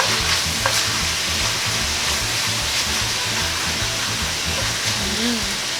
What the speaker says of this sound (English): I'm just going to put my chopped onion and my basil in there. Brown them together. Stir it up.